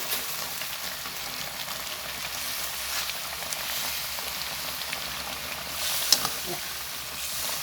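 Chilies, green peppercorns and kaffir lime leaves go into a pan of tilapia cooking in hot liquid, giving a steady close sizzle and bubble throughout.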